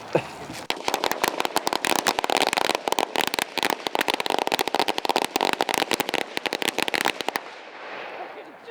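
Fireworks bangers go off outdoors in Alaska, a rapid, loud, irregular string of cracking pops lasting several seconds before stopping abruptly, leaving a faint hiss and crackle.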